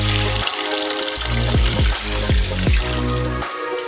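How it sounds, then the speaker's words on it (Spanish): Water pours into a pan holding oxtail and beef for Vietnamese pho bo broth, a close gushing stream with rising glugging pitch as it fills, alone without talk. "Rellenamos con agua hasta arriba."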